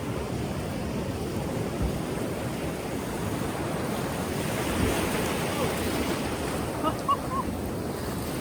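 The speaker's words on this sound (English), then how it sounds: "I'm pretty sure this is the Pacific Ocean" Steady Pacific Ocean surf rolling and washing continuously, with gusty wind buffeting the microphone throughout.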